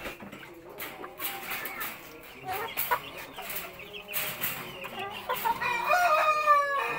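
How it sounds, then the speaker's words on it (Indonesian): A Bangkok breed brood hen clucks among other chickens in a farmyard, with repeated close clucks and scratchy calls, a drawn-out crow rising near the end, and other birds audible in the background. "Kalau ini indukan ayam bangkok."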